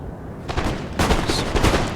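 Musket volleys crackle across a Napoleon: Total War battle at Waterloo, a quieter first burst followed by louder, denser rolling gunfire that keeps going steadily throughout.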